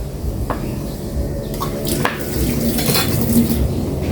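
Garlic sautéing in hot oil in a pan, a steady close sizzle with occasional scrapes and clinks of a utensil stirring against the metal, continuous throughout.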